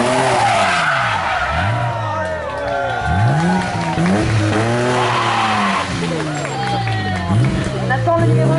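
A 1986 BMW 323i race car at a historic hill climb, its engine revving hard through repeated rising and falling sweeps with tire squeal, loud and close, over a continuous crowd and outdoor wash.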